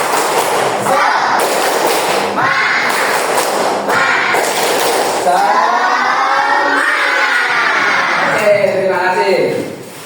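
Schoolchildren in a classroom perform a rhythmic spirit clap, with bursts of patterned group clapping alternating with loud chanting and shouting voices throughout.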